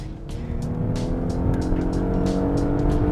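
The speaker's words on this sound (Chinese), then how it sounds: "换挡的时候已经不再像是一台双离合了，反而我觉得有点像跑车那种康康康的那种换挡了" Porsche Panamera engine droning steadily under hard driving, a sustained close rumble with sharp periodic clacks suggesting abrupt gear changes, loud and without voices.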